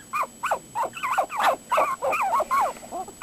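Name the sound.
puppy howling and whimpering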